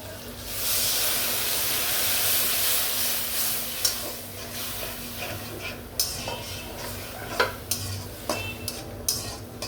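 Masala for a chicken curry sautés in a pan with a loud steamy hiss that starts strong and eases. A utensil scrapes and taps the pan now and then, and a quiet voice can be heard at times.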